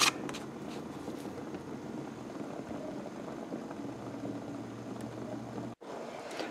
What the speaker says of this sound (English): It's still cooking nicely in there. In fact, you can see it bubbling every once in a while.